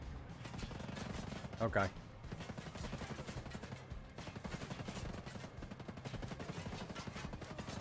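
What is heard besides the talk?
gunfire from an enemy shooting in Ghost Recon Breakpoint video game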